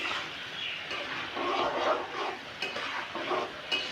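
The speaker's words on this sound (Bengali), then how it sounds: "মশলাটা কষানো হয়ে গেছে, এবার এতে আমি আলুটা দিয়ে দেব। তারপর এটাকে ভালো করে কষিয়ে নেব।" Potatoes being stirred into a spice masala for a soybean and potato curry, with a spatula scraping the pan under a steady close sizzle and occasional clinks of metal.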